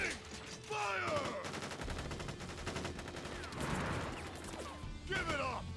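Soldiers fire a rapid gun volley in Crisis Core: Final Fantasy VII, dense crackling bursts of automatic fire mixed with metallic ricochets and shouts, loud and sustained across the whole stretch.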